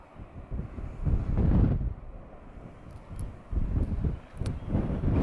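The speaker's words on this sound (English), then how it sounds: "Windy." Coastal wind at Boscastle buffets the microphone in loud, rumbling gusts that rise, drop off briefly and surge again, with no voices.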